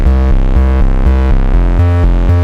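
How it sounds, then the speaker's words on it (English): A dark octave synth bass preset built from two saw waves plays a steady, loud, throbbing line of repeated low notes that jump between octaves in an even rhythm, with nothing else around it. "Bass is this dark octave bass that sounds like this."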